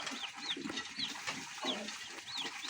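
Day-old broiler chicks in a brooder, cheeping in repeated thin high chirps, several birds peeping on and off at a moderate distance with no talk.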